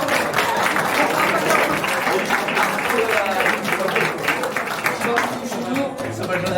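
A crowd of residents from Bessan gives a long, dense round of applause for the Remich municipal council during a town trip; steady, loud, continuous clapping fills the whole stretch with faint voices mixed in.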